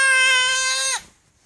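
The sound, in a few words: child imitating a sheep bleating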